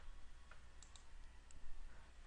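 A mouse click on a software Add button: a few faint, crisp clicks spread over two seconds against a quiet room hiss, no voices.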